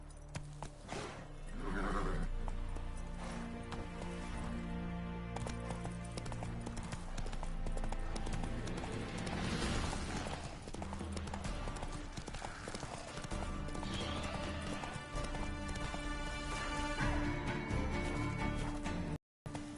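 A horse gallops with steady clip-clop hoofbeats and gives loud whinnying neighs, all dense and continuous with a layered sound bed underneath, and the clip cuts off abruptly at the end.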